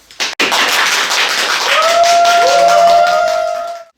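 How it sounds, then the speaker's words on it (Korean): An audience at a university social-welfare lecture breaks into loud, dense applause to welcome a professor, starting abruptly after a brief knock and joined midway by a sustained electronic tone before fading out. "큰 박수로 엄지척하면서 김성호 교수님을 모시도록 하겠습니다."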